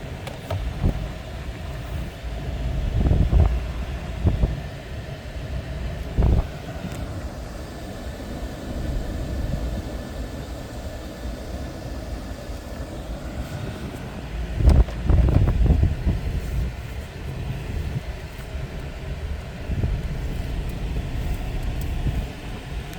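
Car interior on a drive into town to pick up fence posts and fencing on a small horse farm, with a steady low engine and road rumble, wind buffeting, and a few louder thumps over about twenty seconds.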